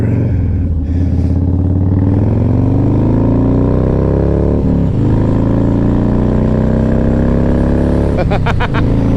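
A Harley-Davidson motorcycle engine on a memorial ride revs hard nearby. Loud rising and falling pitch sweeps pulse over a throaty idle, with sharp throttle blips near the middle and end.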